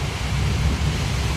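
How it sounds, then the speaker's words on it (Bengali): Heavy rain pours steadily over Chittagong during a monsoon storm, with low, continuous rumbling of thunder rolling beneath the dense, hissing downpour; no voices are heard. "গর্জন হচ্ছে, মেঘের গর্জন"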